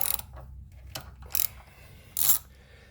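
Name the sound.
6mm Allen key loosening a motorcycle axle bolt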